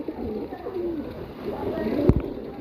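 A male pigeon, one of a prized collection breed, coos in repeated low rolling phrases close by, with a sharp knock near the end and faint background noise.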